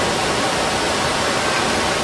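Waterfall at Silver Dollar City, a loud, steady broadband rush of falling water with no breaks and no voices.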